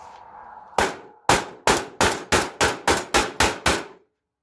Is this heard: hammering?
yes